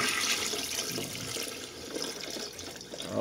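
Cooled boiled water pours steadily into a container for salting duck eggs, a continuous close splashing rush with no talk.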